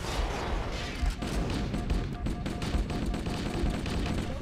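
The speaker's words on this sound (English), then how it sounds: "we're gonna try and take out a shield with this stupidly super slow charging plasma pistol" Weapon fire in a Halo game as a slow-charging plasma pistol is used against a shield, with dense crackling bursts and booms filling the whole short stretch.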